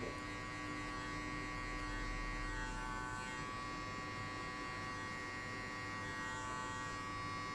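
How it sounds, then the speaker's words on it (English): An electric hair clipper cuts a low fade and buzzes steadily and closely without a break, a constant bright motor hum with no voices. "you flick always the clipper out."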